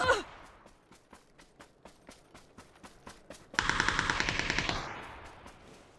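Rapid gunfire in the battle royale game PUBG on the Sanhok map: a steady run of evenly spaced shots, then a denser, louder burst of overlapping automatic fire that fades out, fairly close.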